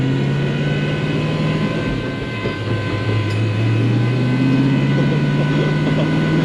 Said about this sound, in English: I'm driving a supercharged car right now down the road.